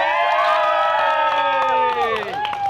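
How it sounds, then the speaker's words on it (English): Friends and family cheering loudly at the Cecil County Fair, a close crowd of excited shouts and high whoops, with children's voices rising and falling over a continuous roar. "Let's hear a big cheer for Abby"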